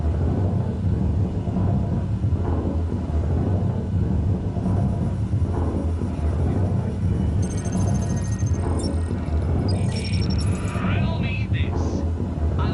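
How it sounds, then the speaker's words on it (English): Outdoor thunder in Batman: Arkham City, a continuous low rolling rumble filling the background while a voice talks over it throughout. "I can't hear you because of the thunder outside"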